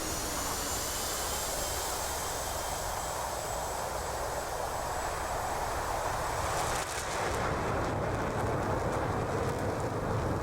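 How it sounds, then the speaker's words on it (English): A broad jet roar from several F-18s in a DCS flight-simulator game rushes past, loud and continuous, then shifts in tone as the aircraft pass overhead during carrier deck operations. "There we had a flyby by several F-18s."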